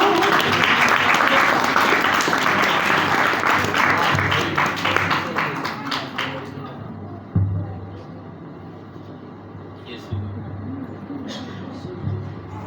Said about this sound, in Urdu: زوردار تالیاں بجائیں گے.